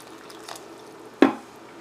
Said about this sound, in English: Just make a well in the middle and you pour in some cold water.